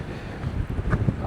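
Wind gusts buffet the microphone outdoors at a riverside spot along a highway, a steady low rumble with a few stronger bursts and no talking.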